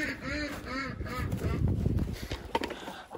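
Several ducks quack and honk nearby at night on a farm in a noisy burst, calls overlapping for a few seconds before fading.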